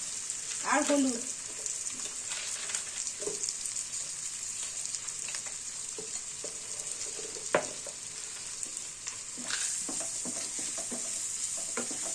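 Spices with chilli powder fry in a pan, a steady background sizzle broken by repeated spatula scrapes and stirring clatters, with a brief voice-like sound near the start.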